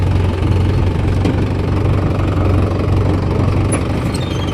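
A tractor engine idles steadily and loud, a low rumbling throb held throughout with no speech over it, while the driver shifts into first gear.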